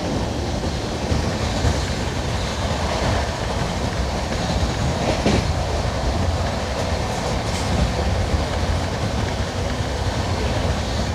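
Howrah Rajendranagar express train running steadily on rails, a continuous loud rumble of wheels and carriage noise with faint clickety-clack throughout, heard from on board with no talking.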